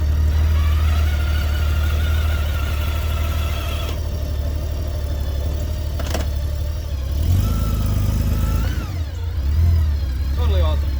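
A Honda Gold Wing touring motorcycle engine rumbles at a steady, loud idle, close by, with small shifts in pitch partway through as it settles; a voice talks over it.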